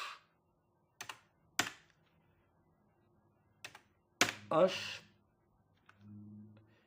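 A few separate keystrokes tap on a computer keyboard during a Windows 10 password search, sparse clicks spaced out at close range, followed by a brief murmur of voice.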